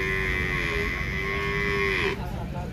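An ox moos in one long, loud, sustained call that ends abruptly, rising over the steady crowd murmur of a bullock market in Pebberu.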